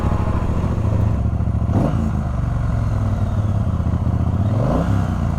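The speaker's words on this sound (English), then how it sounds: "The engine and the sound. This 1200cc Bonneville motor is an absolute beauty." A Triumph Speedmaster motorcycle with a 1200cc Bonneville twin runs loud and close, a deep chugging idle broken by two short throttle blips that rise and fall in pitch.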